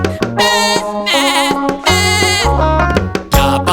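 A voice imitates a goat's bleat in a children's song, with wavering bleat-like calls sung loudly over musical accompaniment.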